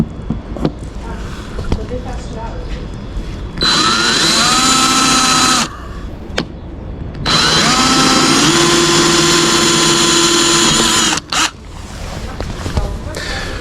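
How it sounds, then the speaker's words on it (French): A power drill bores holes through a boat's gelcoat hull in two sustained loud bursts of whining, with a short break between them and quieter handling noise around them. "J'ai percé les 3 trous"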